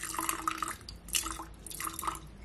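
Warm water pours and drips steadily into a bowl of coffee for iced coffee in a quiet room, with a couple of small trickling bursts; no voices.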